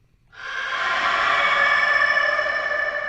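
A sustained, washy reverberant tone swells in after a brief silence and holds steady, a smeared echo tail isolated from a recorded rooster call, with a faint rooster-like pitch.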